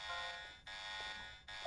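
A bright electronic alarm from the video game Star Ocean: The Last Hope buzzes in steady repeated tones, each lasting about a second with a short break between them, quiet and alone.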